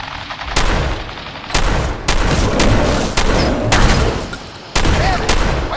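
Gunfire in the video game Fallout 4, a rapid series of loud shots and booms cracking out in bursts over a dense, continuous battle din.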